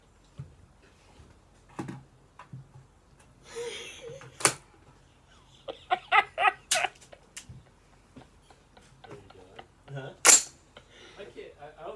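Sharp gunshots at an outdoor shooting range, a few loud cracks spread across the clip, with people talking quietly between the shots.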